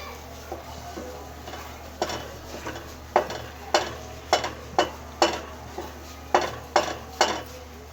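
Metal spoon chopping boiled eggs in a pan of egg and capsicum curry, a series of sharp clinks and scrapes against the pan, irregular then more regular, close and clear over a low sizzle.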